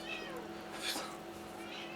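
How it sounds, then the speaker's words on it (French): A cat meows faintly in the Demon's Souls video game, a brief rising cry heard under people talking. "Oui, oui, ça c'est un chat."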